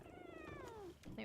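A cat in the video game Once Human gives a short descending meow-like call followed by a brief second sound, close and fairly quiet, lasting only about a second.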